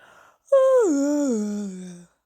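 A voice imitates an old man's long, drawn-out yawn that starts high and slides down into a low, groaning tone before cutting off.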